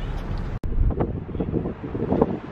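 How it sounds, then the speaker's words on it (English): Wind gusts buffet the microphone outdoors in a low, rumbling roar, with one brief cutout early, continuous and fairly loud throughout. "this wind is not, it's not being nice today"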